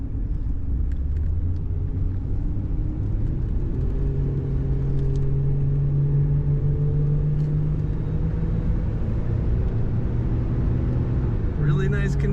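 A 1983 Oldsmobile Delta 88 Royale sedan driving, with a steady low engine and road rumble that rises in pitch midway as it accelerates, continuous and close.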